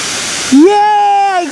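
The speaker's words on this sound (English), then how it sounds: "Yay! I got such a nice and cute waterfalls." A waterfall in Gujarat gives a brief, loud, hissing roar of falling water, then a voice exclaims over the continuing rush.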